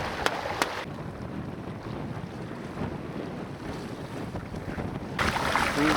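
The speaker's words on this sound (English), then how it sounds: "you got some wind now, huh, Roger?" Wind buffets the microphone continuously while sailing a small canoe between islands, a steady rushing roar with faint water movement, growing stronger in the last second.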